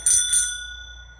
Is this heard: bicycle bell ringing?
yes